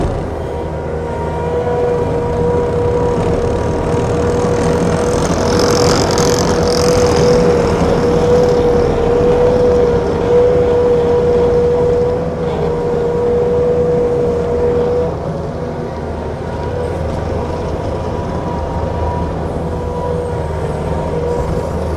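A 2018 Bobcat T770 skid steer's engine drones steadily and loudly nearby for over twenty seconds, with a faint high whine in the middle stretch and a slight drop in level toward the end.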